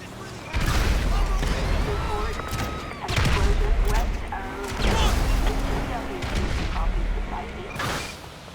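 Gunfire in Grand Theft Auto V, played at 4K ultra settings: bursts of shots and heavy booming blasts come in clustered volleys roughly every few seconds, loud and close, with a person talking faintly between them.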